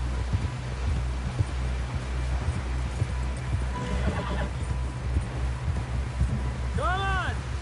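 Rapid hoofbeats of a galloping horse in the video game Red Dead Redemption 2 pound steadily beneath people talking, with a brief horse whinny near the end.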